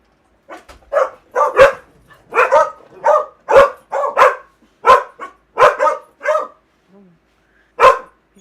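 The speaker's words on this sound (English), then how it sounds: "We got some dogs on the stream." Several dogs barking repeatedly and fairly close, in bursts of sharp barks with brief pauses over several seconds, with occasional yips; no talking, and the barking dominates throughout.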